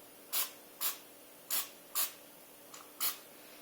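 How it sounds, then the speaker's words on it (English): Five short, sharp spritzes from a cooking spray can, each a brief hissing burst spaced about half a second apart, close and fairly loud against a quiet background. "Just give it a couple spritzes"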